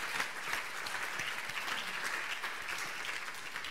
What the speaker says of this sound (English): he deserves a second round of applause